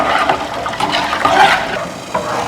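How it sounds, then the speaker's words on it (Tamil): Water is poured into a pan while milk kolukattai is being made, a short, bright splashing and trickling that runs continuously for a couple of seconds without talk. "கரைச்சி ஊற்றிக்கலாம் தேவைக்கு தண்ணி ஊற்றிக்கலாம்"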